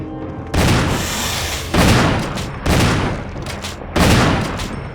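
Richard fires his shotgun in Resident Evil (2002 remake), with four loud, close blasts at roughly one-second intervals, each ringing out before the next.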